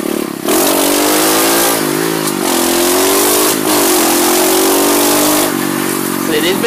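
A pit bike engine revs continuously while being ridden, a loud buzzing drone that rises and falls in pitch through the clip, with wind rush and no talk over it.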